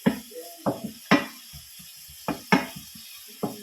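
Seasoned food with pepper and paprika being stirred in a pan, a series of separate scraping and clattering strokes with light sizzle, close and fairly quiet.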